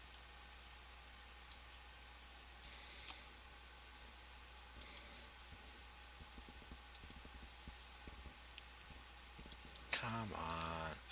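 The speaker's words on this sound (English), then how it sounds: "I will click right here" Sparse computer mouse clicks sound during a Photoshop session, faint and irregular over a quiet hum, with a quick cluster of clicks near the end.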